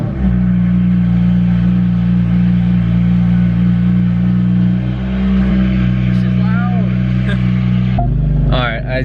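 A BMW F80 M3 engine idles steadily after a spark plug change, with a smooth, continuous low rumble that stays close and loud throughout, and a brief shift in tone near the end.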